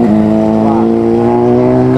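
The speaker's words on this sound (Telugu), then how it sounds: "Kawasaki ninja, too much exhaust వస్తుంది, సౌండ్ వస్తుంది" A Kawasaki Ninja superbike with a loud exhaust rides past on a road outside Hyderabad. Its engine makes a steady, loud, close drone with a strong humming tone that holds for the whole stretch.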